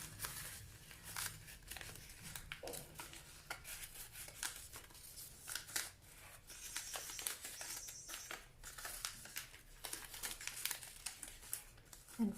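Paper cut with scissors and folded by hand into small seed-starting containers for urban gardening: close, steady crinkling and rustling with scattered sharp snips and soft creases throughout, no talking.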